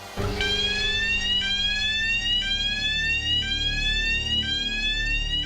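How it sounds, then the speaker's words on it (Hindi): Smoke alarm sounding in a building near a canteen, a loud high repeating electronic tone in steady pulses with a background hum, no talking. "सर स्मोक अलार्म बज रहा है, शायद कैंटीन में आग लगी है"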